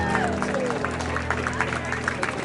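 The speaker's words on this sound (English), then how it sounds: "Give yourselves a round of applause." A crowd claps for the athletes who finished a 25-mile ruck march and for their supporters, a brisk, scattered round of applause that patters steadily over murmuring voices.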